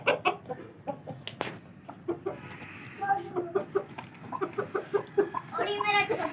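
White aseel roosters and chickens clucking in a pen: a steady stream of close, overlapping clucks and short calls over a rustling background, growing busier toward the end.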